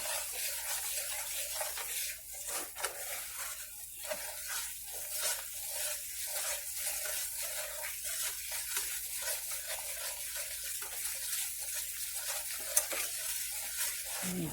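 Sausage gravy casserole mixture stirred in a pan, a continuous quiet sizzle under soft repeated scraping and clinking of the spoon against the pan for a long stretch, with no talk.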